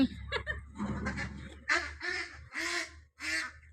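A domestic duck gives a run of short, nasal quacks close by, loud and uneven in rhythm, with brief pauses between the calls.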